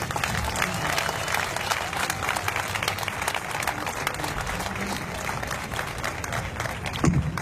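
Sustained applause from an audience greeting a pastor who is about to speak at an advocacy event, steady and dense throughout with a slight swell near the end.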